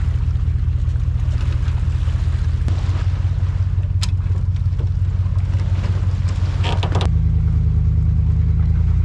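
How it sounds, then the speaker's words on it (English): A wake boat passes on the water, its loud, steady low engine rumble dominating throughout, with wind and water noise over it and a slight shift in pitch near the end. "You hear that? It's that wake boat."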